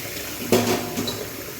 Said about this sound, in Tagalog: hugasan natin yung mga dapat hugasan